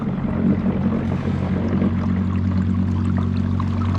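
Old Town Sportsman 106MK motorized kayak running at full throttle on the water, a steady, loud motor drone with low hum and water wash, continuous and close throughout.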